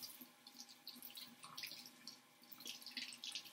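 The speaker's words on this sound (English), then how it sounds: "And run the water on the inside of them." Tap water runs into a kitchen sink and splashes over vegetables being rinsed, a faint, continuous patter with small irregular drips and spatters throughout.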